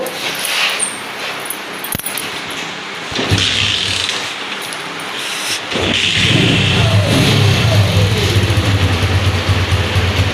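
A modified Chinese motorcycle engine cranks and catches, then settles into a steady idle that builds into a louder, sustained rev, close by.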